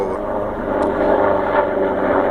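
An airplane passes overhead outdoors above a garden, a steady broad engine roar at moderate loudness with no talk.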